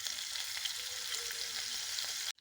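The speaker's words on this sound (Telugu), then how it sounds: "ఆయిల్ వేస్తున్నా అండి, పోపు చేస్తున్నా అండి, జీరా వేసాను, మిర్చి" Cumin and chilli sizzling in hot oil for a tempering, a dense, steady, close crackle that runs unbroken and then cuts off abruptly at the end.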